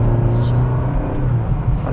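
A BMW car engine idles and revs nearby, a steady low rumble with rising throttle, with a voice talking over it.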